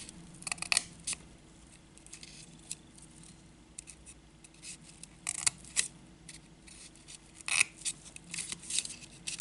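Small scissors snipping through cardboard in short, irregular bursts of crisp cutting noise, close up, with a low steady hum underneath and no voices.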